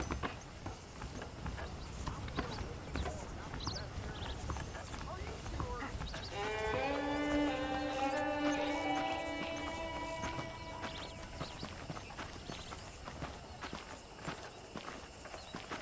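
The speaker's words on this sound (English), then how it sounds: "The horses are saddled up over here." Horse hooves clop in a steady walking rhythm under ambient noise, with a voice briefly speaking in the middle, in the video game Red Dead Redemption.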